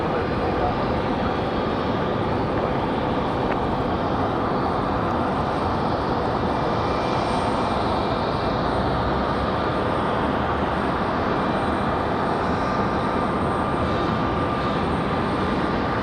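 An Endeavor regional jet airliner takes off from runway 23 right at Raleigh-Durham, its engines a loud, sustained roar holding steady throughout.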